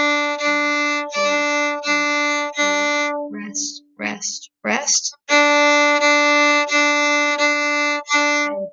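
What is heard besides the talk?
viola playing top line of a piece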